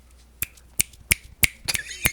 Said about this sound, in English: and there's your clap